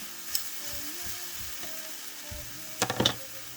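Zucchini and cooked rice sizzle gently in a pan with a soft, steady hiss. A few brief clinks of a utensil come near the end, and no one speaks.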